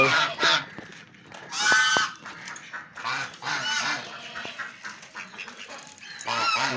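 Farm ducks call loudly and close by while the birds are being let out at feeding time, with repeated honking quacks in bursts throughout.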